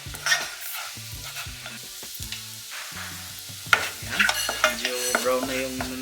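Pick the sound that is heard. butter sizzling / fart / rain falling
butter sizzling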